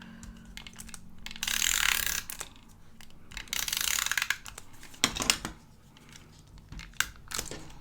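Scissors cut a straight strip of paper during planner crafting: a few close, quiet rasping snips in short bursts, separated by soft taps and handling noises.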